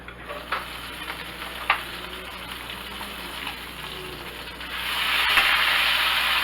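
Chicken cooks on turned-down heat in a pan with a lid, giving a steady soft sizzle and a few light clinks early on. The frying swells into a louder, brighter hiss during the last couple of seconds.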